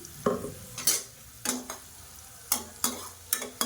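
Onions sautéing in a pan with a soft sizzle underneath, broken by several sharp scraping strokes of a spoon stirring against the pan in an irregular rhythm, close and fairly quiet.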